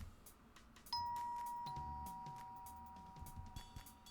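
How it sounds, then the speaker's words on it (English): A doorbell rings once with a clear two-tone chime that rings on and fades slowly, heard faintly against quiet background rumble. "The bell rings, and no one answers."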